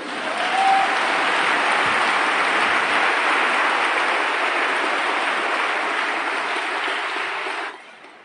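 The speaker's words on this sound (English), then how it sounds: "Let's give him a big round of applause." Sustained applause from a large crowd at a funeral service for a member of a reggae group, a dense, steady roar of clapping lasting several seconds before fading out near the end.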